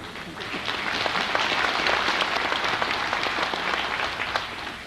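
An audience applauds a 1984 political speech by Kim Dae-jung in the United States, with dense, sustained clapping from a large crowd that swells and then holds steady.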